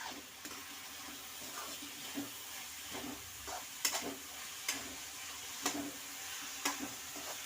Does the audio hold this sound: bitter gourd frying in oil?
yes